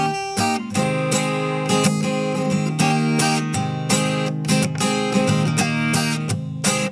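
Acoustic guitar riff played slowly, strummed chords moving between shapes including G, close and clear with a steady relaxed rhythm and no talking.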